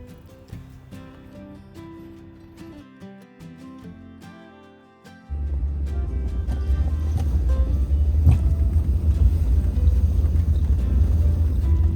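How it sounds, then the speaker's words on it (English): After a quieter stretch with faint tones, a pickup truck carrying a heavy load of logs on snowy winter roads in Alberta rumbles in with a loud, sustained low engine drone that holds steady to the end. "This load caused Mark a little bit of trouble, and as you can tell, yes, we badly need new winter tires on this truck."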